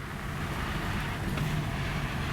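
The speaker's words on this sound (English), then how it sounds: "It's so windy today though." Gusty wind buffets a moving car with its windows lowered during a brake bedding drive, a steady broadband rush and low rumble that fills the cabin without letup.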